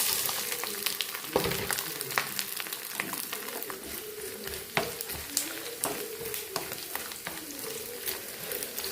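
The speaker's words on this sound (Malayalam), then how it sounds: "ഇപ്പോൾ നമ്മൾ ഇതേ രീതിയിൽ കുറച്ച് കനത്തിൽ നീളത്തിലരിഞ്ഞ് വെച്ചിരിക്കുന്ന തേങ്ങാക്കൊത്തും കൂടെ ഈ വെളിച്ചെണ്ണയിലിട്ട് മൂപ്പിച്ചെടുക്കാം" Thick, long-cut coconut slices fry in coconut oil for a beef vindaloo, with a dense, close, steady sizzle and frequent sharp pops and spatters, plus occasional stirring scrapes.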